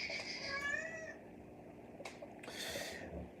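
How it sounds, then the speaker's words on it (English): A pet cat gives a drawn-out meow close by, followed moments later by a couple of short higher chirping cries over quiet room noise. "Sorry, that's my cat."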